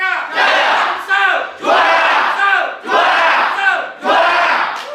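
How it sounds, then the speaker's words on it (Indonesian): A crowd at a send-off for a regional sports contingent to a martial arts national games event shouts in unison four times, each loud rhythmic chant rising and fading in turn, close and energetic. "Terima kasih, tepuk tangan kalian"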